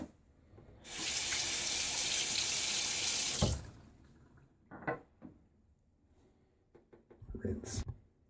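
Tap water gushes loudly into a sink for a few seconds while a razor is rinsed after a shave, then cuts off, followed by a few light clicks and small handling knocks nearby.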